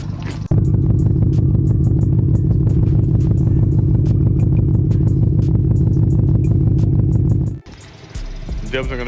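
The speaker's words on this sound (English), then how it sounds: "the first thing that I love the absolute most about this car is the exhaust note that it has" A 600 hp Audi S6 with a straight-pipe exhaust and crackle tune idles with a loud, steady, throbbing rumble close to the microphone for about seven seconds before it cuts to a quieter background.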